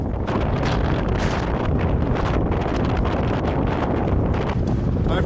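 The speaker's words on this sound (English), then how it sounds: "it's tough because I'm running against the wind" A strong, cold headwind buffeting a runner out on a long run, a loud, constant roar of wind across the microphone with no break from start to finish.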